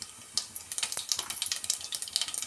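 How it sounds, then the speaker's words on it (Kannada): Mustard seeds spluttering in hot oil, a quick series of sharp crackles and pops that grows denser after a brief quiet start, faint and close. "ಸಾಸಿವೆ ಸ್ವಲ್ಪ ಚಿಟ್ಪಟ ಅನ್ನಲಿ."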